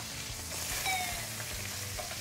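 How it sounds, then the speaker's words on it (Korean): Curry-marinated steak sears in a pan of hot, splattering oil, a steady close sizzle with crackling spits throughout and no talk. "이거는 기름을 손에 맞아가면서 확실히 구워줘야 합니다."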